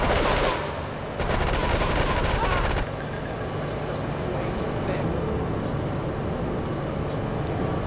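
AK rifle gunfire in GTA, a loud burst of rapid shots at the start, then a few more cracks, fading into a steady background rumble from the game.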